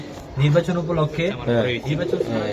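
A yellow giribaz pigeon cooing in soft, repeated throaty phrases close by, mixed with a voice talking over it.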